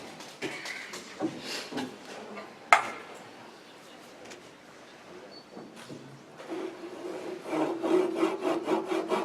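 Handsaw strokes rasp through wood in an uneven series of close scraping rubs, with one sharp knock partway through and a faster run of strokes near the end.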